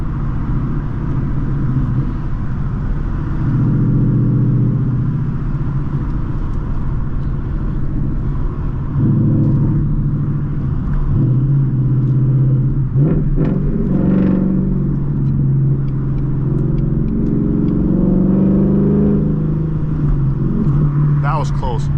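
Steady engine rumble from a 2022 Ford Mustang GT with a custom exhaust while driving, low and continuous with rises as the revs climb, with speech running over it throughout.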